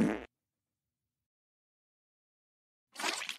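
A fart balloon popper toy lets out a brief, blaring fart sound, then after a long silence a second, slightly longer raspy burst.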